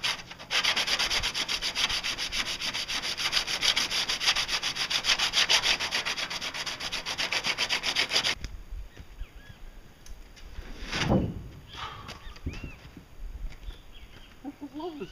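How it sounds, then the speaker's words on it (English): Fiberglass being scratched up by hand to expose its fibers, a loud, steady, rhythmic rasping for about eight seconds that then stops, leaving faint handling noises and a short rustle. "I'm going to scratch this up really good so some fibers are showing"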